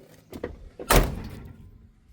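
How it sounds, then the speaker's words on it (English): A door on a 1984 Chevy C10 pickup truck is swung shut with one loud, solid thunk, preceded by a few faint knocks and shuffles, and the slam rings out briefly before fading into quiet. "let me shut this door here"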